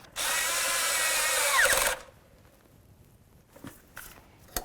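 A power tool snugs a part on a Ford Crown Victoria engine during an intake manifold replacement, giving one loud, steady whirring burst of about two seconds, then quiet with faint clicks and handling noises.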